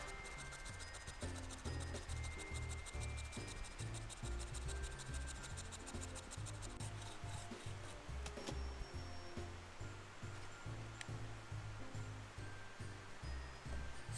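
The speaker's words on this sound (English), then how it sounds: "we're going to saw all the way through, forward and back" A hand saw cuts all the way through a log to make wood cookies, with a steady rhythmic rasp of forward and back strokes, close and continuous without pause.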